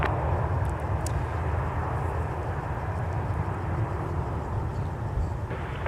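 A Delta Boeing 717 touching down on runway 12 right at Minneapolis–St. Paul Airport, heard as a steady, low, rumbling engine roar that holds evenly throughout, moderately distant, with no speech.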